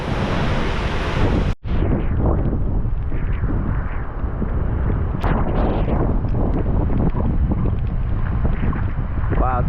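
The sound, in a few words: strong wind gusts during Hurricane Ian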